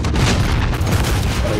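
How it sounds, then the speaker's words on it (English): A grenade blast in a tactical shooter video game, heard as a loud, continuous broadband boom with rumbling low end that fills the short stretch alone. "Grenade out!"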